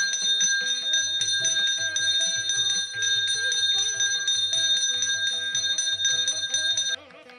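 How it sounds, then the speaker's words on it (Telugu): A handheld brass bell rung continuously during a Hindu home puja, its bright sustained metallic ringing steady and close for the whole stretch, with a faint lower rhythmic tone beneath. "పూజలో ఘంటానాదానికి కూడా చాలా ప్రత్యేకత ఉంది."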